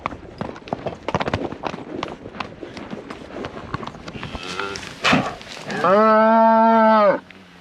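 Hooves clatter and shuffle with scattered noises as cattle are worked on horseback in a 100,000-acre pasture, then a cow lets out one long, loud moo near the end.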